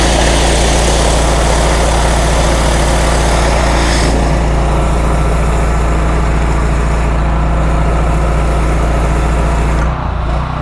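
A pressure washer with a large surface cleaner roars in a loud, steady drone close by. The pitch and texture shift partway through, and the sound cuts off near the end.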